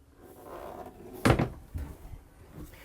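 A closet door in a Jeanneau DB 43 day boat yacht cabin swings open with one sharp wooden knock and a softer rattling bump after it, close and alone.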